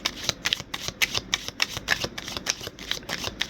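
A tarot deck being shuffled by hand, rapid rhythmic riffling and card flicks in quick bursts, close and crisp, with no talk.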